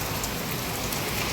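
Rain falling steadily in a city, a brief, even, dense patter and hiss, moderately loud and close, with no talk.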